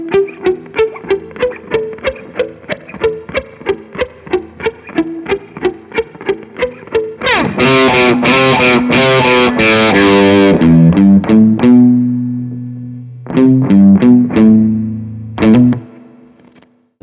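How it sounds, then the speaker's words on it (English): Electric guitar through a Marshall Jubilee amp with spring reverb plays a soft, evenly picked intro of repeated notes, then digs into a loud, heavily distorted riff of sustained chords and stabs, close and alone. "We just play the intro nice and soft and then dig in for the main riff to get the more distorted sound."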